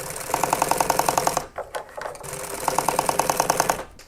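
A sewing machine stitches motorcycle seat upholstery in two rapid, even runs of needle strokes, separated by a short pause with shuffling, heard close and clear.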